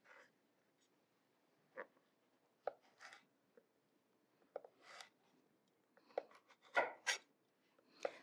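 A knife chops delicata squash into half moons on a cutting board, giving a series of sharp, separate thuds that quicken into a cluster of cuts near the end, close and fairly loud with no talking.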